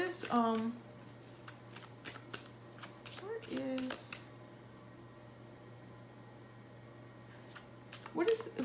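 Zodiac tarot cards shuffled in several quick riffling bursts separated by pauses, close and crisp, over a faint steady hum with a voice speaking at moments.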